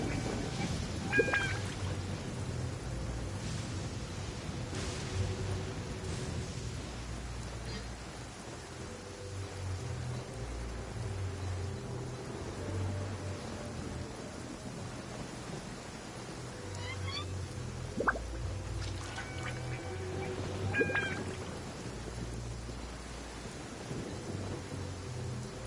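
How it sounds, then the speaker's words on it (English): Rain and thunder in Genshin Impact: steady rainfall hiss with low rolling thunder, a few short electronic game tones and chimes scattered on top, and quiet voices coming and going. "Let us find shelter from the rain."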